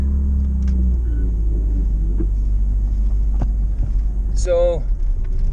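A Pontiac Fiero idles or cruises during a test drive, a steady low engine rumble heard from inside the car with a person speaking over it, plus a brief rising tone near the end.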